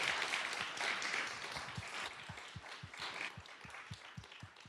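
Scattered audience applause at a government announcement on youth mental health funding, a steady patter of hand claps with some louder individual claps through the middle, moderately close and fairly quiet, no talking.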